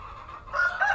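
A rooster crows close by in a single loud, rising call with strong harmonic bands, starting softer and swelling into the main crow, with no talk over it.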